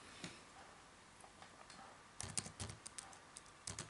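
Computer keyboard keys tapped while working in the MATLAB command window, quiet scattered clicks at first, then a faster burst of typing and a few final keystrokes, with no talking.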